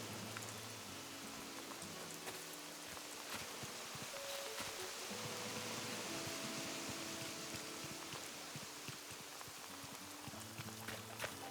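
Steady rain falls in the Animal Crossing video game on an overcast day, a soft continuous patter under low looping game music, even and unbroken throughout.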